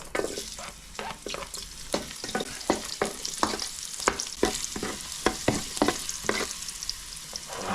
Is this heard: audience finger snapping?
no